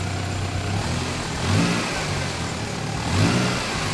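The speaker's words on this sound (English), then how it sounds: "What if we rev it up a little bit?" Car engine with overfilled oil idling roughly and revved twice in short swells, loud and close with a steady mechanical drone between the revs.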